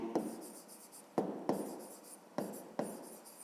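Pen writing on paper while working a grade-5 math exercise, a run of scratchy strokes separated by sharp taps as the pen starts each new mark, heard close with no talking.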